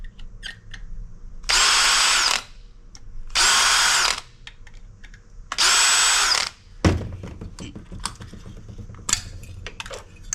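A power drill backs out the screws holding a shell onto an aluminum-finned heatsink from a Sun Microsystems machine, with three loud whirring bursts and small clinks and handling clatter in the quieter gaps between them.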